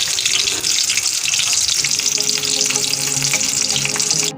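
Snake gourd fritters fry in oil over low heat, a dense, continuous sizzle and crackle that stays steady and close throughout before cutting off abruptly.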